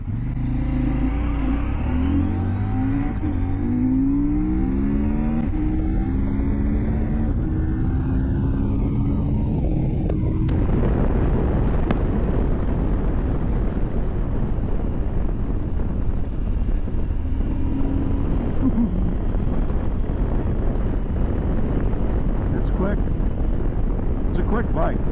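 A 2023 CFMoto IBEX 800T motorcycle accelerates at full throttle, its engine tone climbing steeply through rising harmonics under heavy wind rush, then settling into a loud, steady roar.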